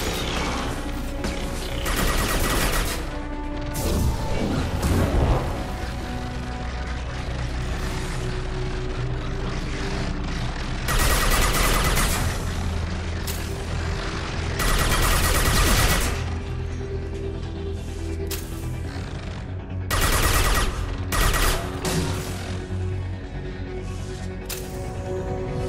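Combat in Mass Effect 2 brings repeated bursts of gunfire and crashing impacts over a steady mechanical drone, the loud volleys recurring every few seconds throughout.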